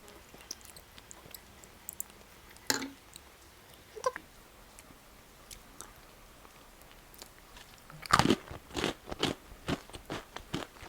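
Mammoth bread is eaten close to the mic: sporadic crunchy bites followed by a cluster of wet chewing and crackling sounds near the end, in an otherwise quiet room.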